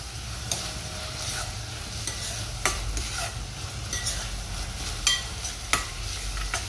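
Onion fries in a pan toward a pinkish-brown color, giving a steady sizzle broken by periodic sharp clinks and scrapes of a spatula stirring. It sits close, with no voices.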